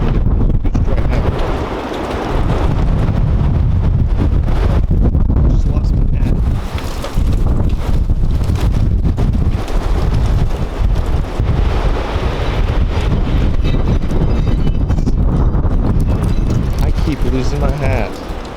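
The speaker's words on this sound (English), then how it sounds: "you can probably hear it. It's still super windy." Strong outdoor wind buffets the microphone in loud, continuous roaring gusts that swell and dip for the whole stretch, with trees thrashing nearby.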